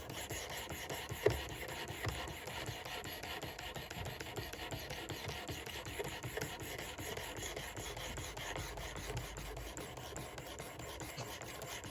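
A broadhead stroked across a 600 grit sharpening stone gives quiet, continuous rasping and rubbing, repeated in short back-and-forth passes with no talk.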